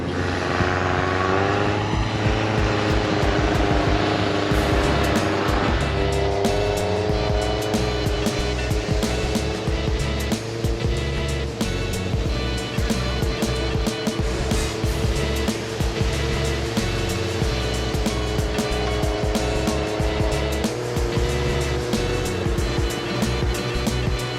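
A Jeepster climbs a snowy Pacific Northwest mountain on aired-down tires through wet snow, its engine a loud, close, continuous drone that holds steady throughout.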